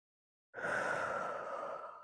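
A single long, soft exhale through the mouth during a seated yoga forward fold. It is close and breathy and starts abruptly after a short silence, then tapers slightly.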